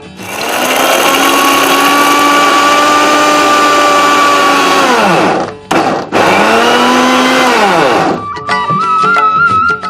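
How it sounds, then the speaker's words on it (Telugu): Peanuts are ground in a kitchen mixer grinder as a loud, steady electric whine. The motor drops out briefly, spins up again, then slows to a rattling stop. "ముందు పల్లీలు మిక్సీ పట్టుకుందాం."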